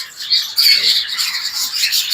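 An African grey parrot gives a sustained, harsh, raspy squawk, loud and close, with no talking over it.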